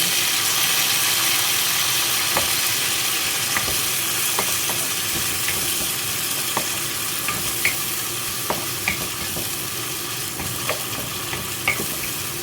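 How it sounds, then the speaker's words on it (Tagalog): Tomato frying in a pan with potato and egg, giving a steady low sizzle and crackle with faint scattered pops and no voices. "Ngayon isusunod ko ang tomato."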